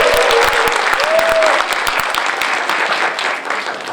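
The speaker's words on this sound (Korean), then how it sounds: "한 번만 더 박수." Crowd applause at a political talk concert, a dense wash of clapping from an audience, steady and fairly loud throughout, with a brief tonal whistle-like sound early on.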